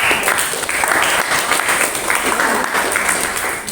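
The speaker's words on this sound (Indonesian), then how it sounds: "aplaus buat kelas" Applause from a classroom full of students at the end of a geography lesson, steady dense clapping sustained throughout, moderately loud and close.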